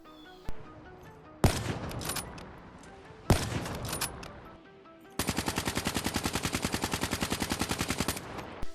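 In Black Ops 3 gameplay, a few loud, separate sniper rifle shots with echoing tails are followed by a long, rapid, evenly spaced burst of assault rifle fire, all close and sharp.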